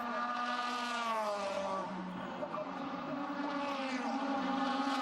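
DTM touring race cars scream past at Norisring in 2002, high engine notes rising and falling as they run close together, with a commentator's voice faintly over the pack.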